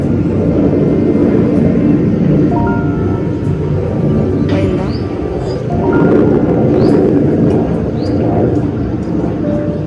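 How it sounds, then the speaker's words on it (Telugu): A small training aircraft drones overhead above a farm garden, a steady loud engine hum persisting throughout, with faint bird chirps in the background. "ఈ టైంలో ఫ్లైట్స్ బాగా, అవి ట్రైనింగ్ ఫ్లైట్స్"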